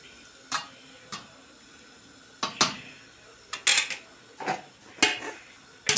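A lid goes onto a pot of simmering tomato sauce: a few sharp metallic clinks and knocks, spaced irregularly and close, over quiet kitchen background with no talking.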